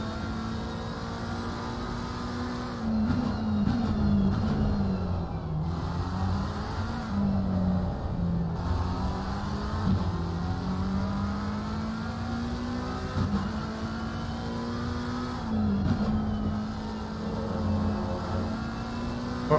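GT3 race cars lapping Zandvoort in a sim racing game, steady loud engine drone with rising and falling pitch as cars shift and accelerate, several engines overlapping with no talk.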